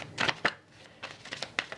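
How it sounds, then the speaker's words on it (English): Quick bursts of crisp riffling and flicking, like a deck of playing cards being shuffled, several short bursts close by with brief pauses between. "Why you make me shuffle again?"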